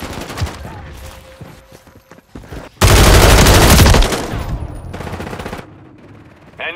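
Video-game gunfire in Call of Duty Modern Warfare 3, a close, loud automatic burst lasting about a second amid scattered shots and footsteps, with in-game voice callouts around it.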